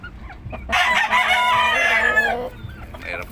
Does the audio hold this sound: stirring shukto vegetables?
no